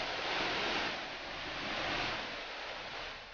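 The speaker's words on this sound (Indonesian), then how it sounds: "kami menikmati air terjun yang ada di dataran Gunung Losa" Steady broadband rush of a waterfall on the plateau of Mount Losa, a soft, continuous hiss of falling water with gentle swells in level and no voices.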